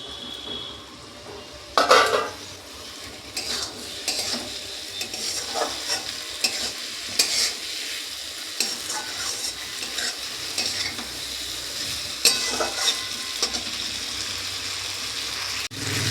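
Boiled potatoes are stirred into frying spice masala in a pan, with a continuous sizzle under repeated scraping and clattering strokes of a spoon against the pan, close and fairly loud, no voices.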